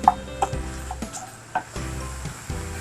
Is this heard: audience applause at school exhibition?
no